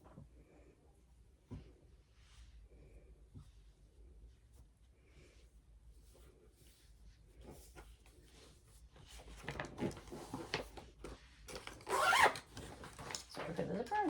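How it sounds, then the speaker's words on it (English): A loud zipper is pulled open or shut close by, a sharp rasping burst after a stretch of quiet room sound. "Sorry for the zipper, that one was loud."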